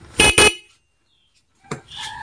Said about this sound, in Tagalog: tutunog yung ating stock horn.